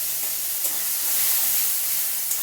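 Spice paste fries in hot oil in a wok with kala jeera, giving a continuous bright hiss and sizzle with faint crackles, close and steady, with no talking.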